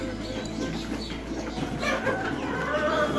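Laying hens on a poultry farm cluck and murmur in a busy, continuous chorus of overlapping close and farther calls.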